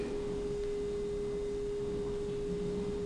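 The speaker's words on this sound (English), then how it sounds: "It's a curious humming sound that seems to be coming from inside the object." A steady, unwavering electronic hum, the humming from inside the Martian object in a War of the Worlds radio drama, holds one pure tone for the whole stretch over a noisy hiss background.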